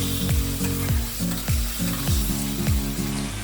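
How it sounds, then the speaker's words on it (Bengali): Ginger paste frying and being stirred in a pan for a jackfruit and prawn curry, with a steady close sizzle broken by repeated scraping stir strokes at a regular rhythm. "আদা বাটাটা ওর সঙ্গে ভালো করে মিশিয়ে নিয়ে নিতে হবে"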